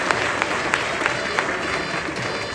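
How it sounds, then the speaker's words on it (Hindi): Devotees at a Datta Jayanti gathering at the Shri Manik Prabhu Darbar in Karnataka break into loud applause, a dense, steady roar of many hands with a few sharper claps standing out. "जोरदार तालियों से बीदर के प्रभु भक्तों का"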